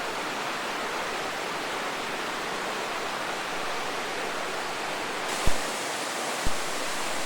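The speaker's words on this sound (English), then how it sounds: "the more violent the rapids are in the little creek, and the louder the roar of it" Roaring rapids of a little mountain creek along a Rocky Mountains trail, a dense, constant rushing wash of water, loud and close, with two faint thumps near the end.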